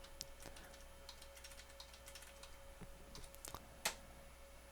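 An IP address command is typed on a computer keyboard: quiet, scattered key clicks in an uneven rhythm, close but faint, ending with one sharper keystroke.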